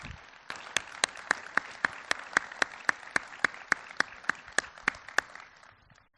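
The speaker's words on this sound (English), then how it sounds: "give him and his colleagues a very strong applause for everything that they have done" An audience at the Arctic Circle China Forum closing ceremony applauds, with a regular run of distinct sharp claps standing out over a softer wash of clapping that fades at the end.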